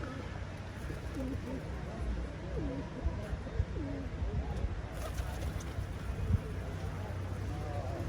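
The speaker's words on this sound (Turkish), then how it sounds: "Nehri kıyısındaki güvercinler yuva kurmak için topladıkları çalı çırpı ve alışmışlar buraya." Pigeons coo along a riverbank in Ljubljana, their soft rolling calls repeating over steady outdoor ambience with faint hints of water traffic.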